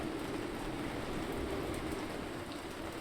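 Torrential rain downpour in a city builder video game, a steady, even roar of heavy rainfall with no breaks, moderately loud and alone.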